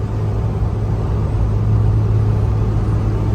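A Dodge Cummins diesel pickup fitted with an Edge CTS3 tuner accelerates, producing a loud, steady low rumble of engine and road noise that holds throughout with no pauses.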